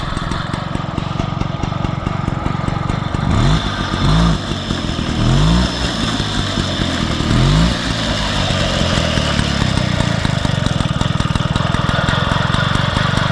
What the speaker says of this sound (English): Raleigh Wisp all up and running